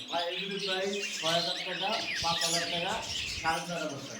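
Caged cockatiels on a pet-bird farm give repeated bright chirps and squawks in short bursts, close by, with voices talking in the background.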